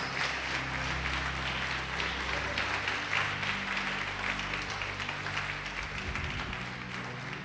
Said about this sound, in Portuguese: Vamos aplaudir o Senhor e glorificar o nome de Jesus